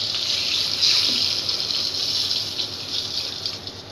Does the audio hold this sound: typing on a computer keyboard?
no